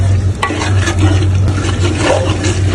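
Meat mixed with spices for a dal-and-rice khichuri is stirred in a pan, giving a steady, close scraping and sizzling with no pauses.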